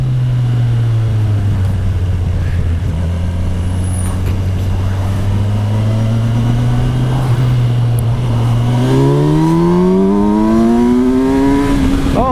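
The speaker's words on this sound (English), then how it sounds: "I don't want to stall it now, so I use the clutch to shift down to first." Engine of a Kawasaki Versys 1000 SE GT motorcycle, heard close during a ride as the rider downshifts to first. It drones steadily at low revs, then climbs in a smooth, rising whine as it accelerates hard.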